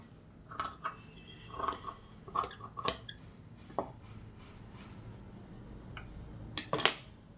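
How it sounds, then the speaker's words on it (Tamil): Scissors snip through a piece of fabric while cutting a churidar piece without canvas, a few sharp, close clicks and crisp snips scattered irregularly over quiet background. "இப்போ இந்த பீஸை வந்து நம்ம கட் பண்ணி எடுத்துக்கலாம்"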